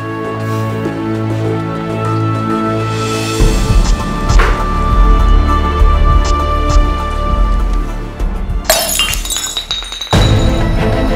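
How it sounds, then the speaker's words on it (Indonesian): A drinking glass is knocked over and shatters in a dramatized domestic scene, heard as sharp clinking and breaking crashes over a background of music-like tones, with a final loud burst of shattering near the end. "Sengaja menyenggol gelas sampai pecah kayak gini."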